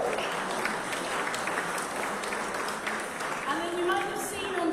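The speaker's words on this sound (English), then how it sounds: "I think a round of applause." Club audience applauding a guitarist from David Bowie's early lineup at a Stockport venue, a steady dense patter of clapping held throughout, with a voice speaking over it near the end.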